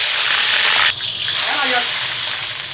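Sliced garlic hits hot oil and lard in a wok, giving a loud, steady sizzle that runs throughout with a brief dip partway.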